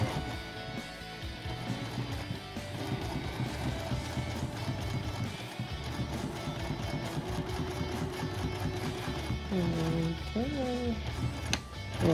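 Sewing machine stitching a 1/4 inch seam down a vinyl pouch panel, a continuous rapid mechanical chatter at close range, followed by brief whirring bursts near the end.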